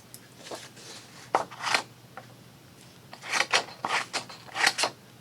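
Small metallic clicks and snips come in short bursts, quiet and close, with pauses between handling sounds.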